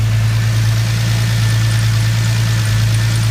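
Up close, a 2000 Lincoln LS engine idles with a steady low hum and an even, continuous mechanical drone, with no voices.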